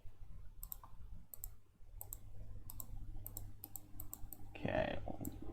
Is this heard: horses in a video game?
no